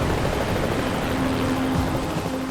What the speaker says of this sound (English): A Coast Guard rescue helicopter.